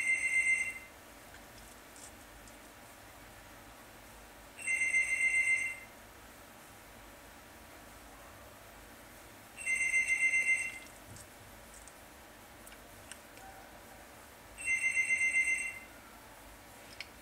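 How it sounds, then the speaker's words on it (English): A phone rings four times, about five seconds apart, each ring a short bright electronic burst of about a second. The rings sound fairly faint over a quiet indoor background, with no one talking. "My phone is ringing."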